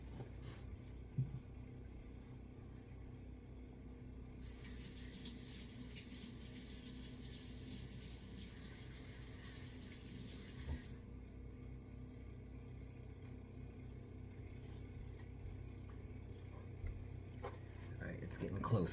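Tap water runs steadily for several seconds while someone rinses off a Dovo straight razor, a broad hiss sitting under a low room hum, with no talking over it.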